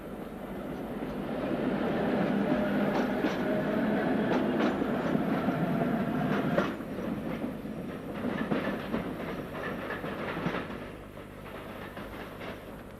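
A London city train rumbles along the rails with a steady roar and rhythmic clacking, gradually easing off toward the end.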